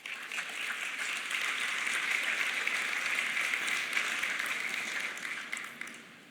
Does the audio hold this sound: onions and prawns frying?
no